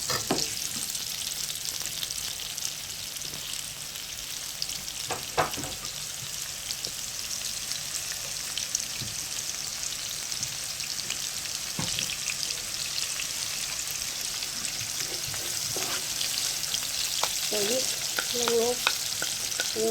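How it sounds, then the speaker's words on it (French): White onions frying in a pan, a steady broadband sizzle with scattered crackles and pops running throughout, close and continuous with no talking. "je vais faire tout griller. Les ingrédients, là, je vais commencer par les oignons blancs."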